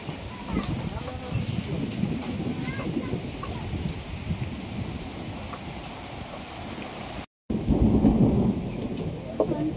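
Thunder rolls under a cloudy, stormy sky, a low continuous rumble with rain-like hiss, briefly cut out before returning louder; talk-like murmurs sit within the mix.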